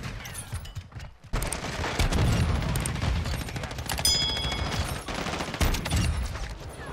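Shotgun fire in the shooter game Modern Warfare II, a run of sharp, loud blasts in quick bursts with brief pauses between them, close and punchy.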